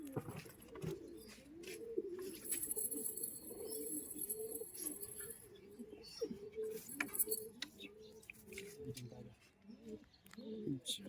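Pigeons at a Murshidabad pigeon sale in West Bengal coo repeatedly at low volume, soft throaty calls rising and falling among rustling, faint high chirps and people talking nearby.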